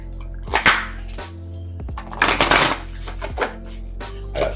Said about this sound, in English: I gotta stick my tongue out when I shuffle these because it's so tough.